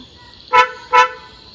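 Two short, bright horn chirps about a third of a second apart come from a car being locked while its rear boot is left open. The chirps are close and clear over a quiet background, with no voices.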